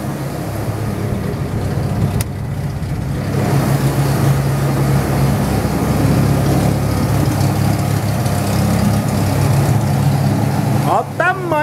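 Chevrolet Opala engine starting and settling into a rough, low idle, a deep rumbling drone close by and loud after the first few seconds, with a brief burst of talk near the end.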